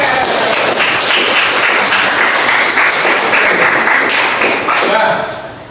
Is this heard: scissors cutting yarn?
no